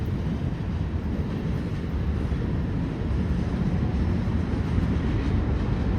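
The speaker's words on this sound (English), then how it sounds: "He's a long train." A long freight train rolling past near Dayton, Ohio, a steady loud rumble of railcars with wind buffeting, continuous throughout.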